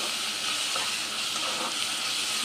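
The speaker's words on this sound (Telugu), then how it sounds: "ఇలా బాగా ఫ్రై అయిపోయింది కదండి." Grated bottle gourd fries in a pan for a sweet payasam, giving off a steady, bright sizzling hiss that holds at an even level throughout without pause.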